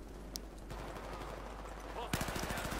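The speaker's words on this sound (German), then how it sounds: "Jetzt mal mit Slack-Munition schießen." ACWR rifle gunfire in the video game Battlefield 4, a burst of rapid shots near the end after a single early crack, over a low game background.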